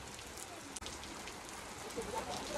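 Heavy rain falls steadily, a faint, dense hiss of drops pattering on surfaces with no letup, heard from a distance with a small click partway through and a few soft tones near the end.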